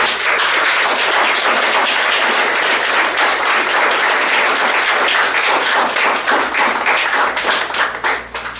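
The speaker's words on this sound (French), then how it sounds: "permettez-moi de vous demander d'applaudir l'archange Gabriel ce matin" A church congregation at a Sunday service applauds loudly and steadily, a dense wash of many hands clapping together that tapers off in the final second.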